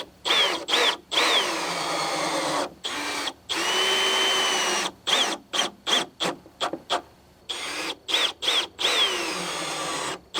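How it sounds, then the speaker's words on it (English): A power drill drives screws into a wooden bookshelf in short repeated bursts, each a few seconds or less, separated by brief pauses, loud and close with no talking. "These screws are going to go in temporarily just to hold it together while the glue dries."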